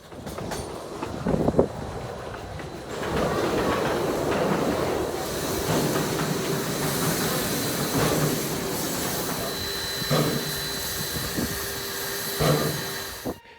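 Museum train rolling along rails at a heritage railway, a steady rumbling clatter with periodic clickety-clack from the wheels and a faint hiss, fairly close and continuous throughout.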